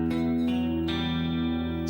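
A sustained electric guitar note played through a chorus pedal rings out with a wavering, shimmering effect, re-struck a couple of times, steady and loud with no voices.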